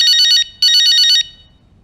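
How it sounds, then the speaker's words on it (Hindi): A telephone rings in two loud, close bursts of trilling electronic tone, with a short gap between them and quiet afterward. "फोन आया भाई, उठा गया।"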